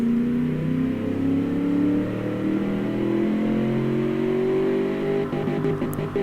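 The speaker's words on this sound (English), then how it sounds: "You can probably hear where VTEC kicks in." A car engine revs steadily upward, its pitch climbing under load with a harder, sharper edge late in the pull as VTEC engages, loud and close with no talking.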